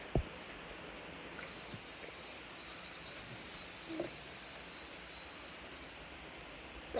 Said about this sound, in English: time to spray the pan